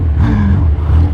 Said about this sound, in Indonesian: Enak bro, suara knalpot es jambu.